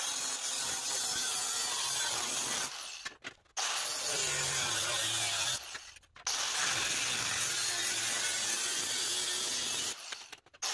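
A saw cuts through the cowl vent panel of a 1948 GMC truck in long, loud continuous strokes, broken by short pauses at around three seconds, six seconds and ten seconds.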